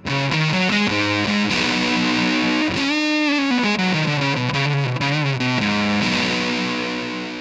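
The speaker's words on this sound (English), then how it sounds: "as you crank the fuzz knob, the more high end you will let through, which in many cases may result in a buzzy sound" Electric guitar through a Fuzz Face pedal with the fuzz knob cranked, a buzzy, distorted tone playing a melodic line of sustained and sliding notes, loud and alone.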